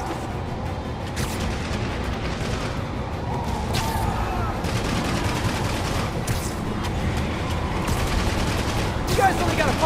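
Enemy gunfire in Marvel's Spider-Man, a sustained loud barrage of rapid shots and blasts with sharp cracks punctuating a dense roar, while a voice talks over the action.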